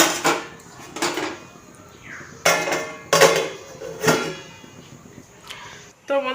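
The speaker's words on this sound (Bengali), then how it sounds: "তো এখন আমি এটাকে ঢাকা দিয়ে দেব।" A lid clatters onto a metal cooking pot of jackfruit boiling with salt and turmeric, with several sharp clanks and knocks spread across the moment, close and fairly loud.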